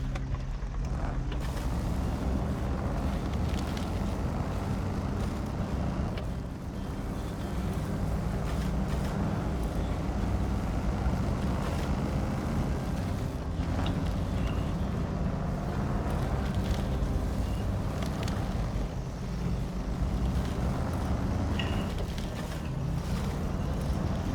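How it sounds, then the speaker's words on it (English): An offroad truck in the SnowRunner video game spins its wheels in mud: a loud, continuous engine roar with churning, rushing noise and occasional surges in intensity, steady and close, with no talking. "we're starting to kick up a little mud because of our wheel spin"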